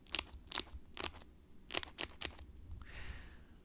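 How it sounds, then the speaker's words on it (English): A trading card box crunches and crackles in a quick series of sharp, close crinkles as it is squeezed, then a softer rustle trails off. "a crunchy box"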